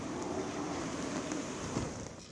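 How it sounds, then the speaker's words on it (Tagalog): Typhoon wind roars steadily through Santa Ana, a broad rushing wash with a faint high whistle running through it, loud and continuous for a couple of seconds with no voices. "Dinig na dinig din ang tila pagsipol ng hangin"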